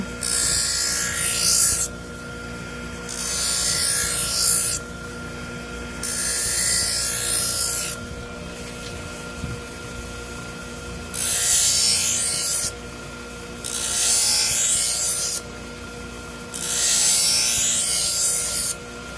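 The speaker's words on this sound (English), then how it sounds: "Sharpen it with the fine file, fine sharpener" A kitchen knife is sharpened with a fine file in a series of long, rasping strokes. Each stroke lasts one to two seconds and is separated by short pauses. The strokes are close and fairly loud, and no one speaks.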